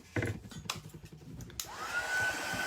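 A hair dryer blows onto wet chalk paste on a craft sign, its motor whirring up to a steady high-pitched hum after some brief handling clatter at the start.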